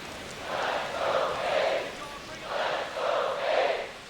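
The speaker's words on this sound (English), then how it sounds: "This crowd chanting, "Let's go A's."" A ballpark crowd in the baseball video game MLB The Show 25 chants in a rhythmic pattern of repeated swells, two groups of phrases rising and falling, moderately loud in the background.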